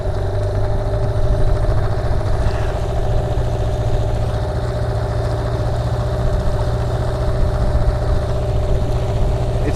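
A dinghy's boat engine idles with a low, continuous rumble and a slight rhythmic shudder, constant in level and fairly close throughout.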